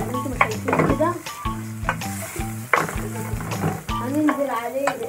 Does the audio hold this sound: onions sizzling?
yes